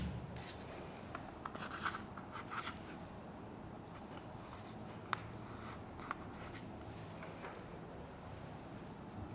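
White chalk writing on a classroom board, a run of short scratchy strokes and taps, fairly close and clear, with no talking.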